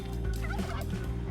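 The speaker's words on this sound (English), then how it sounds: "There's no way that this turkey lives if I try to ride it right now." Turkeys gobbling in the video game Spelunky 2, a steady, loud run of warbling calls over a constant game backdrop, with no talk.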